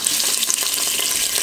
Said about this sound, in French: j'ai mis un petit peu d'huile d'olive dans la cuve de mon Cookéo, et je vais y faire dorer ma viande